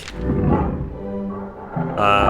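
Tiger growling in the video game Dr. Langeskov, a loud, close, rumbling growl that swells and fades, followed by a brief burst of game sound.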